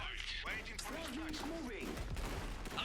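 Bursts of gunfire and crackling shots from gunner units in the real-time strategy game Iron Harvest, dense and continuous, partly under someone talking.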